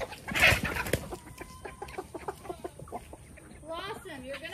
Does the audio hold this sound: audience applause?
no